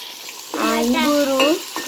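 Spices and curry leaves fry in a pan while being stirred: a soft background sizzle with a brief, wavering scraping whine from the utensil in the middle, close and without talk.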